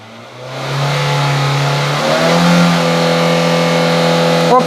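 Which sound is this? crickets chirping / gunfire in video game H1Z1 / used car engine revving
used car engine revving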